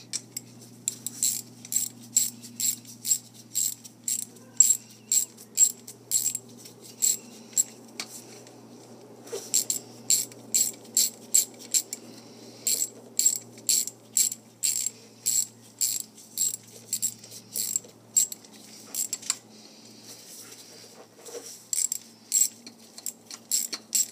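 Spark plugs are tightened in a Chevrolet HHR with a ratchet, giving rapid bursts of crisp metallic clicks close by, repeated in short runs with brief pauses between.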